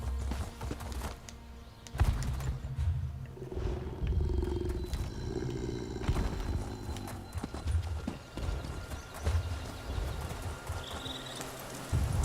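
Horse hooves clip-clop steadily in the Elder Scrolls Online video game, mixed with ambient game effects and occasional growling creature sounds at a moderate level.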